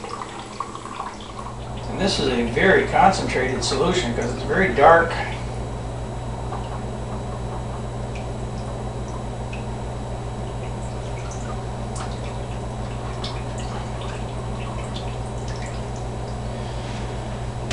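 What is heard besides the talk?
liquid dripping as a bowl is squeezed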